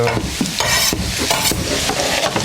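Chopped onion with carrot fries in a pan for pasta bolognese, loud crackling sizzle broken by repeated scraping stirs and tosses at an uneven rhythm.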